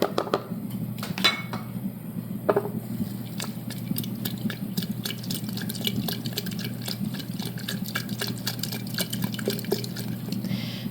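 A utensil scrapes and clinks rapidly against the inside of a mason jar as white flour and water are stirred into a sourdough starter, a busy rhythmic rattle with a wet, pasty undertone.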